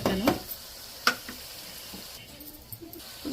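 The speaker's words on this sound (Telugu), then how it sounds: "ఉల్లిపాయలు బ్రౌన్ కలర్ వచ్చేదాకా కొంచెం వేసుకుని" Onions fry in oil with curry leaves, giving a soft sizzle broken by a few sharp stirring scrapes and clicks, quiet and close, with no talking.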